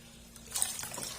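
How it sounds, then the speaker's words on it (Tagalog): Water is poured into a thick coconut ice candy mixture in a soft, steady stream for about a second, a close, gentle splashing and trickling sound. "Lalagyan natin siya ng tubig."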